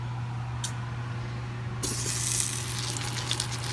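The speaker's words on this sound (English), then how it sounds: "So now I'm gonna go ahead and put these into sear." Ingredients for pressure cooker pho are set down to sear, starting a sudden loud hissing sizzle partway through that carries on steadily over a low constant hum, with no talking.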